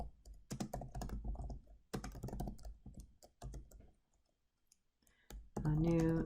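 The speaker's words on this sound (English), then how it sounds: "let me finish typing, otherwise I will get all confused" Keys clicking on a computer keyboard in irregular bursts of close, crisp taps, pausing near the middle, with a brief tonal sound at the end.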